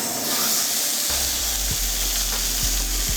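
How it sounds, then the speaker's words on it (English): Bacon-wrapped pork tenderloin sizzles loudly and steadily in a sauté pan, a dense frying hiss with a few low knocks of the pan partway through. "And you hear that really nice sizzle."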